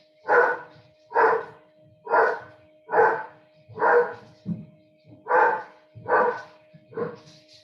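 Dogs bark in a steady run of about ten sharp, evenly spaced barks, fairly close and loud, coming from indoors at a house while excited by something outside.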